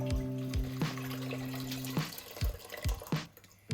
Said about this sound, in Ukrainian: Зливаю розсіл з огірків до кастрюлі.